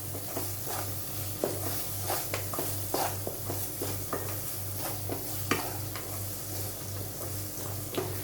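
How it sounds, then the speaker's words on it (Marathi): Stuffed eggplant masala with onion-garlic spice paste sautéing over a low flame, a steady soft sizzle broken by repeated scraping stirs of a spoon against the pan, close by with no talk. "छानपैकी हा मसाला असा परतून घ्यायचा आहे आपल्याला"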